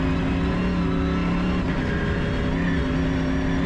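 The V8 engine of an Optimus Dakar rally car roars under acceleration, a loud continuous throaty drone heard from inside the cabin with no voices over it.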